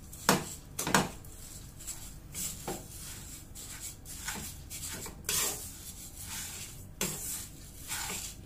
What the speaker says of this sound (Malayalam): ഇനി അത് നമുക്ക് ഒന്ന് ഇളക്കി കൊടുക്കാം.